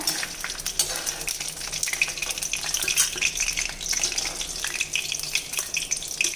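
Curry leaves frying in hot oil for a bitter gourd fry, a steady close crackling sizzle with bursts of spitting, no talk.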